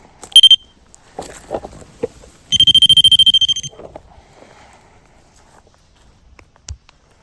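REM pod paranormal detector alarm at Borley Church: a short burst of rapid electronic chirps, then a longer run of fast pulsing beeps, with footsteps and handling noise between, ending quietly.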